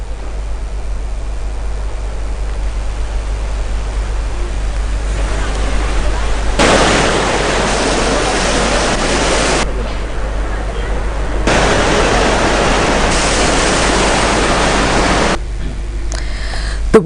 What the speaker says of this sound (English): The dam constructed to prevent entering water of the Nilvala River into Mathura area is overflowing at